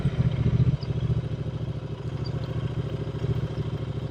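A Royal Enfield Continental GT 650 engine runs close by with a steady, pulsing parallel-twin thrum, a short louder rev at the start, then settling into an even idle.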